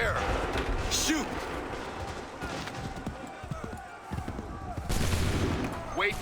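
Musket volleys in Assassin's Creed 3, several loud crackling bursts of massed fire at the start and near the end, with commands shouted and battle noise in between.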